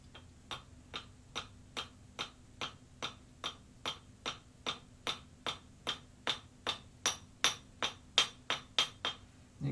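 A steel hammer taps a hammer head down onto a new wooden shaft, a steady run of about twenty sharp, evenly spaced knocks that grow slightly louder toward the end, close and alone with no talk.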